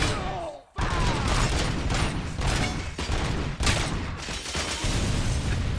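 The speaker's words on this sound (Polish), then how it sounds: "Jeszcze granat i wybuch." Dense, continuous gunfire and explosive booms from a RoboCop Rogue City firefight, with a sharp blast near the start after a brief lull, then sustained loud bursts of shots and impacts throughout.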